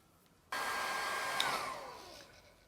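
A hair dryer switches on abruptly and blows with a steady whirring rush, then winds down slightly near the end.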